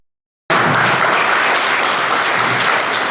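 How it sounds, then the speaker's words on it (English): A conference audience at a CEO summit bursts into dense, steady applause that starts abruptly and stays loud and even to the end, with no talking over it. "let's give Bill a round of applause"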